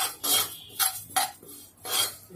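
Ingredients are dry-roasted and stirred in an already heated metal kadai, giving a few quick scraping, clinking strokes of a spoon against the pan, close and brisk, with no talking.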